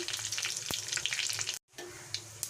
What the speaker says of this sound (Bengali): মশলাটা আমার ভাজা হয়ে গেছে